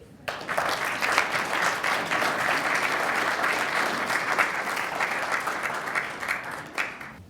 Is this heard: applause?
yes